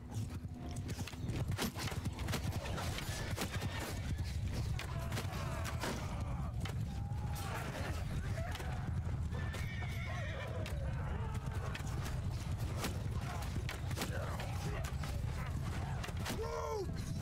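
Horses neighing and whinnying over a steady drum of galloping hooves in a Mount & Blade II: Bannerlord battle, with repeated whinnies rising above the dense, continuous hoofbeats throughout.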